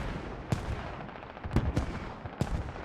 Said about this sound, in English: AK going off.